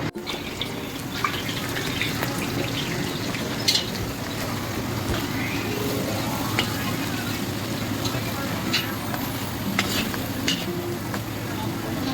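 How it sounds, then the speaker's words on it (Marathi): Jackfruit pieces frying in a pan for a jackfruit vegetable dish, a steady close sizzle with occasional stirring clinks and scrapes and faint voices in the background. "याला आपण थोडंसं फ्राय करून घेणार"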